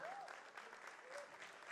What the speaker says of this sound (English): let's have a huge round of applause for our director